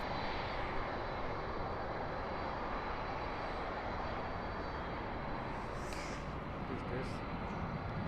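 An Atlas Air Boeing 747 at Dallas/Fort Worth airport at night, its jet engines a steady, loud broadband roar filling the air with no breaks, while someone talks faintly over it.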